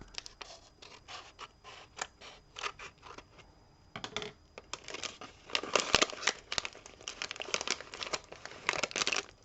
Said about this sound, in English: So I'll just cut this very carefully up the top.